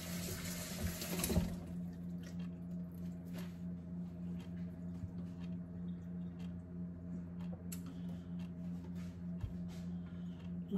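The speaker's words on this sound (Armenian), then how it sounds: "Լցնում ենք ջուր։" Tap water runs steadily into a pot for making coffee in a home kitchen, a soft continuous stream with a faint low hum beneath it and occasional small clinks.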